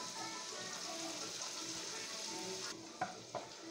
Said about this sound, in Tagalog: maglagay ulit po tayo ng mantika. Lagay po natin yung garlic.